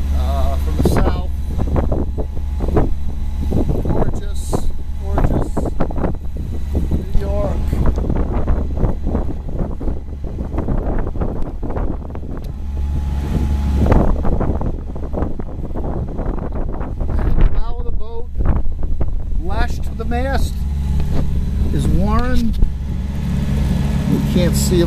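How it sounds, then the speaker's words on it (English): Strong wind buffets a boat crossing choppy New York harbor, a steady loud rush with an engine droning beneath and a voice talking over it. "A lot of chop out here with all the furries and the wind blowing across the harbor"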